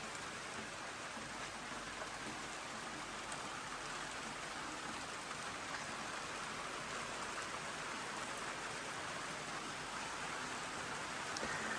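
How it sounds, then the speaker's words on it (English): Steady rain falls outside an Irish cottage, a constant even hiss of drops on surfaces that holds level throughout, with no voices and no breaks. "Oh, it's still raining."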